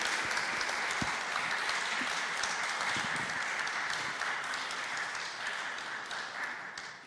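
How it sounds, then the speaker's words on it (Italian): Audience at an artificial intelligence conference applauding the speakers, a steady wash of many hands clapping that holds evenly and tapers slightly at the end. "Io ringrazio le nostre relatrici con un applauso"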